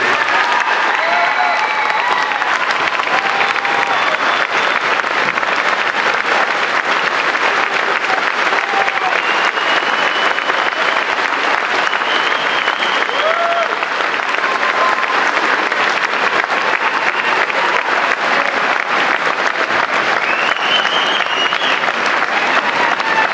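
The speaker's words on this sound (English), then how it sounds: "One last round of applause for our civil veterans today." Sustained audience applause at a school Veterans' Day program, loud and steady throughout, a dense wash of many hands clapping from a large crowd with no break.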